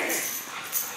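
An eight-month-old Husky puppy whines and yips, a short high-pitched vocal cry up close, with a faint voice in the background.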